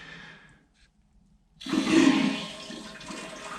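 Water rushes loudly into a Toto Aquia IV toilet tank as it refills, starting abruptly after a quiet pause and continuing as a steady hiss and gurgle.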